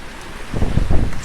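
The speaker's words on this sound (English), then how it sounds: "Here comes the gust." Strong hurricane wind gust during Hurricane Sally, a loud rising roar of rushing air buffeting the microphone, swelling over about a second among downed trees.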